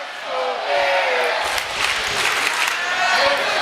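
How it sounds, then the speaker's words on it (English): A home crowd at a junior hockey game roars and cheers, a broad sustained arena din of voices and clapping heard at a distance, with a commentator talking over it. "the crowd trying to put a charge into their home team tonight"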